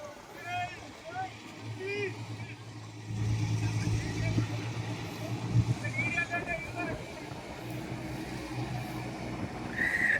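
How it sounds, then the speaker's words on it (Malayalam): Vehicles cross the Muthalapozhi bridge in open wind. A low engine rumble swells after a few seconds and holds steady while people talk over it. "അടിപൊളി കാറ്റും നല്ല വണ്ടിയുടെ ശബ്ദങ്ങളും"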